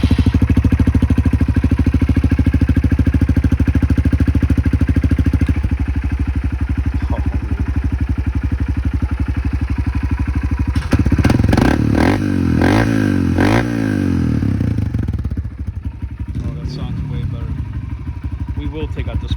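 A Honda CRF125F dirt bike with a Pro Circuit T-6 exhaust cold-starts up close, a loud steady idle that breaks into sharp revs and settles back down, with a person talking over it.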